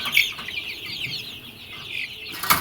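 Month-old Columbian Light Brahma chicks, about 250 to 300 grams, on a poultry farm give close, continuous high-pitched cheeping and clucking, with a brief louder burst at the start and again near the end.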